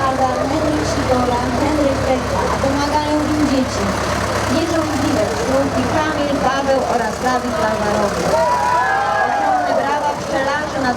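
A tractor engine rumbles steadily as it pulls a float in a village harvest festival parade in Golasowice, a continuous low idle-like drone under loud speech from an announcer.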